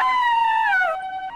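In a comedy skit, a human voice imitates an ambulance siren with a loud, sustained wailing tone that falls in pitch and then steadies briefly, heard alone and up close.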